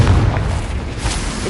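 A Confringo spell explosion in Hogwarts Legacy, a deep booming blast with a low rumble that holds for about a second and a half.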